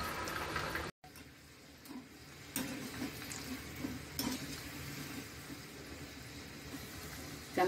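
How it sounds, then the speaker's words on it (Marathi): Spinach kebabs fry in hot oil over a low flame, a quiet continuous sizzle with occasional soft clinks and stirring taps close by, no speech. "आता आपण तेलात सोडूया।"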